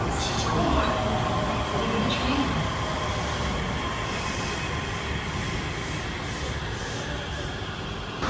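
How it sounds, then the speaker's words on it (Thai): A driverless train reverses with a steady, dense rolling roar heard from inside the carriage. It is loud and continuous, with faint background murmurs. "ตอนนี้รถไฟเราก็กำลังถอยหลัง เรากำลังนั่งถอยหลังกันอยู่"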